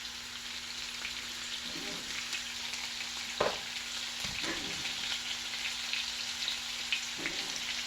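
Seasoned chicken fries in a pan with a continuous bright sizzle and crackle, punctuated by a few soft knocks and scrapes of utensils, with a low steady hum beneath.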